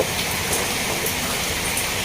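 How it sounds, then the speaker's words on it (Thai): Steady rain falls close by, a dense even hiss of drops on surfaces with scattered brighter patters, continuous throughout with no voices. "ฝนตกละพี่น้อง ฝนตกนะจ๊ะนี่จ้ะ"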